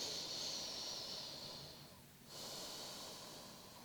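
A deep yoga exhale, a long soft breathy rush of air close by, dipping briefly into quiet midway before the airy hiss resumes steadily.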